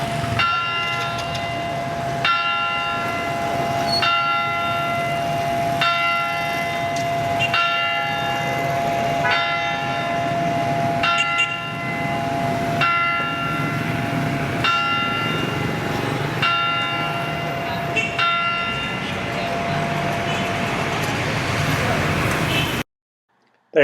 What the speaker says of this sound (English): they had the clock, which was the chimes of Big Ben